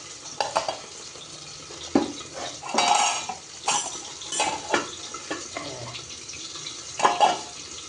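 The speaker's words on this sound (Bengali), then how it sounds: "আস্তে করে এটাকে ঢেকে দিই।" Several metallic clanks and clatters of pots and utensils, with one louder clunk like a lid set down on a pot of cooked rice, over faint sizzling.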